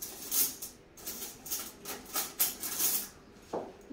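Two small teaspoons picked up from a kitchen set, giving a few light metallic clinks and taps spaced out over a few seconds, faint and close.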